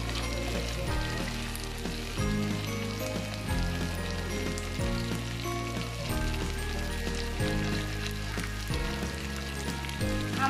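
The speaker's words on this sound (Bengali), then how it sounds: "আমি দুই পাশে ভেজে নিচ্ছি মাছটাকে." Taki fish sizzles steadily as it fries in a pan, a continuous crackling hiss that sits under prominent background music.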